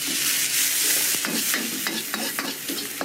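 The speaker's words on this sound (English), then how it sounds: "Then we pop in some noodles. And because they're still a bit firm, a little bit of stock just to soften them." Noodles and a splash of stock stir-fried in a wok in Thailand: a loud rushing sizzle that eases off, followed by repeated scraping and clacking strokes of the utensil against the wok, no talk.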